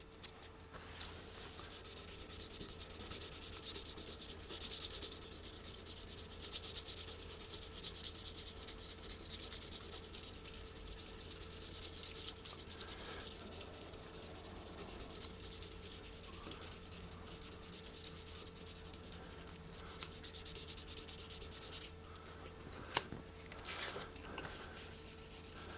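Guitar frets are sanded with 2000-grit sandpaper in soft, continuous rubbing strokes, quiet and close, with a single brief tap near the end and no talking.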